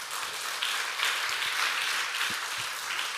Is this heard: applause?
yes